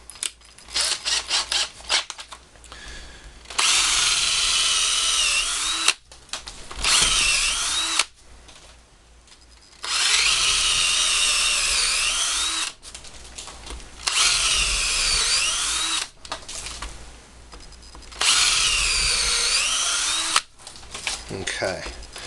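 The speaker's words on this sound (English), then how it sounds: "I'm going to go another size smaller on my drill." A power drill whines loudly as it bores into hard wood in four long bursts of a few seconds each, with short pauses and small handling noises between runs.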